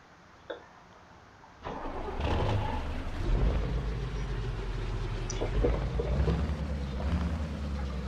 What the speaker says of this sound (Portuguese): O som é muito louco desse caminhão.